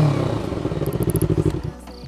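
Yamaha Vixion two-cylinder motorcycle with an Engker three-mode exhaust set fully closed: a short burst of low, muffled engine burble with rapid pulsing thumps and a light clatter, close by.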